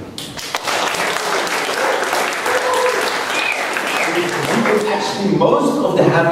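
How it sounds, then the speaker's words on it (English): A conference audience at a Rocket.chat talk bursts into loud, sustained applause filling the whole stretch, with dense clapping and a few voices mixed in, thinning slightly toward the end. "I would like all of you to applaud for him now"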